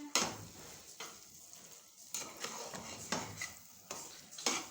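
Colorful sweet seviyan cooking in a pan, stirred with a spoon in repeated scraping strokes about once a second over a soft sizzle, close and fairly quiet, no voices.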